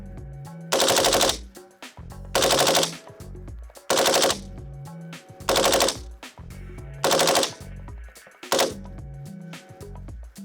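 A Colt LMG machine gun fires five loud, close bursts of automatic fire, each lasting about half a second, separated by pauses of roughly a second and a half, followed by a shorter final burst.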